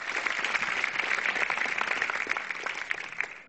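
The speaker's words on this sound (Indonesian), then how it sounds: "Kita beri tepuk tangan" Enthusiastic audience applause for a stand-up comedian at an open mic, a dense wash of many hands clapping steadily before fading at the end, with no talk.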